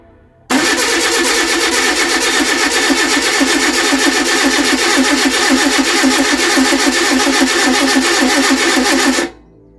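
A Reliant Supervan engine with no fuel reaching it cranks continuously on the starter without catching: a loud, even, rapidly pulsing churn that starts abruptly and stops just as abruptly after about nine seconds, with no talking.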